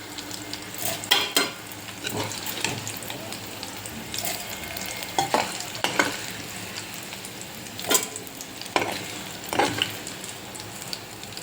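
Oil sizzles steadily throughout, broken by a few sharp scraping stirs of a utensil against the pan.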